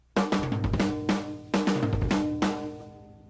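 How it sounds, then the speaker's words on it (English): Rock drum kit groove, toms and cymbal-like crashes with doubled bass drum kicks, loud and close, several accented hits falling in a steady repeating pattern with ringing tom tones decaying between them. "So then, when I add the bass drums, it sounds something like this."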